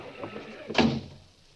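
A door swings open in a remastered old-time suspense radio drama: one soft, dull thunk after a faint lead-in noise, then a quiet fade.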